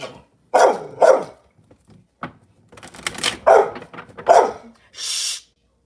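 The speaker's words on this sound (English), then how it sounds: "Dylan, stop barking." A dog barks sharply several times in short bursts, close and loud, with brief pauses and a breathy sound at the end.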